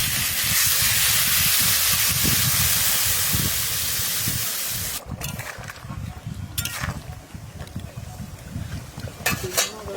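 Water poured into a pan of cooking curry hisses in a loud steady burst of steam, then settles into quieter bubbling with a few sharp clinks of a utensil.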